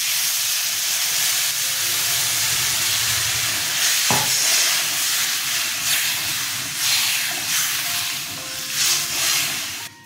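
Sugar water poured into hot cooking ripe mango chutney sets off a loud, continuous steamy hiss and sizzle close by, with a sharp knock partway through and a slight swell of bubbling near the end.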